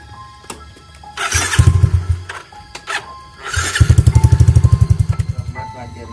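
A motorcycle engine cranks and starts twice, each attempt a loud, rapid sputtering putter close by that catches briefly and then fades, with clicks and noise between the attempts.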